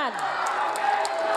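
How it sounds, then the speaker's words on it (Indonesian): Crowd noise rises from the audience at the 2024 Indonesian presidential candidates' debate as they applaud the three candidates, a sustained roar of clapping and cheering with a voice carrying over it. "boleh saya kasih waktu untuk berikan tepuk tangan bagi ketiga calon presiden"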